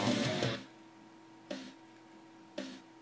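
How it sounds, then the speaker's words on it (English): Electronic blips in a music track: a dense opening burst followed by two short, sharp clicky pulses spaced about a second apart over a faint steady hum. "And those are just kind of like electronic blips."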